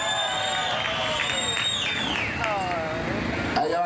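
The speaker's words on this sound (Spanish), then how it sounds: "Aplausos para los pecadores" A crowd at a kissing contest during an event in Táchira, Venezuela, cheers and whoops, with shouted voices and scattered clapping mixed together; the noise is steady and lively, and people talk over it.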